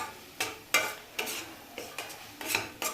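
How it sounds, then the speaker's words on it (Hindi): Spice masala frying in a pan for an onion and capsicum curry, heard as a soft ongoing sizzle broken by regular scraping stirs of a spoon against the pan, about seven strokes, close and without talk. "अब इसको पका लेंगे मसाले को अच्छे से, यानी मसाले को भून लेंगे"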